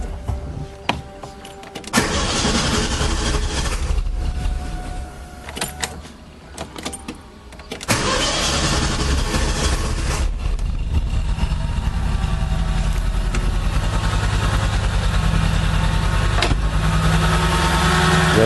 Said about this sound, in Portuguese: Já dá para perceber aí como ele está funcionando, Olha só o tanto que o motor treme.